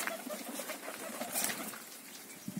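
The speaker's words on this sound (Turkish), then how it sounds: "Bu kuşlar bu yuvada olan kuşlardı." Pigeons coo softly at a loft nest, blending into a dense, steady wash of outdoor bird noise with faint fluttering, all of it fairly distant and with no talking.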